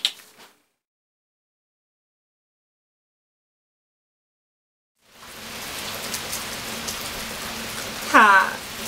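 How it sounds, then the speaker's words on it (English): Steady rain falls outside, a soft continuous hiss that starts after several seconds of silence and runs on to the end, with a brief squeaky sound near the close. "It's raining outside."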